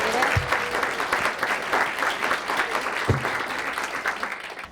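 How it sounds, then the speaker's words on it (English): An audience at a talk in Portsmouth applauds, steady, fairly dense clapping from a roomful of people, heard at a moderate distance and fading slightly toward the end. "If you could just give them a round of applause"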